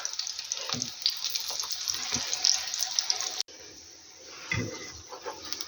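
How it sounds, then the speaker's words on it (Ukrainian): Cheese pancakes (syrniki) sizzle and crackle steadily in a frying pan, a close, continuous hiss with occasional soft clinks and a brief pause partway. "Бачите, гарно смажиться, не опадають."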